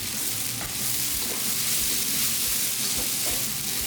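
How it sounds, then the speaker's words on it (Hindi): Carrot and cabbage with other vegetables fry in a pan for egg fried rice, a steady close sizzle with occasional stirring scrapes throughout, no voices. "वेजिटेबल्स को फ्राई को करके"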